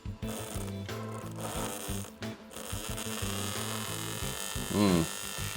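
The electric motor of a rusted Hornby Hall Class model locomotive struggles with an uneven, stuttering buzz and whine that cuts in and out, close and fairly quiet, with someone talking over part of it.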